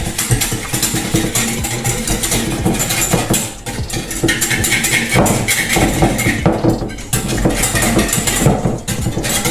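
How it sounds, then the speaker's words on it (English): A whisk beats an egg, sugar and cinnamon mixture for French toast in a bowl, a dense, steady clatter of metal against the bowl that runs without a break, close and fairly loud. "I'm just going to whisk it until everything is dissolved and mixed properly."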